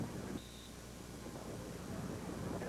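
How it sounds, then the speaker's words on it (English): Steady broadband wind rushes across an outdoor beach volleyball court in Phoenix during a 1992 AVP semi-final, a continuous moderate roar with no distinct gusts standing out. "The wind now really starting to pick up"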